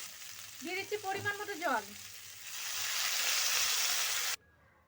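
Water is poured into a spiced cauliflower and potato curry in hot oil, raising a broad, steady sizzle that swells and holds for a couple of seconds before cutting off, after a brief spoken phrase at the start.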